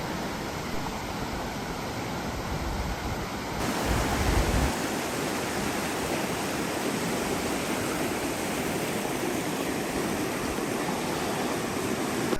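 River water rushing on Dartmoor, a loud, steady broadband wash of flowing current heard up close and continuous throughout, with a brief heavier surge partway through.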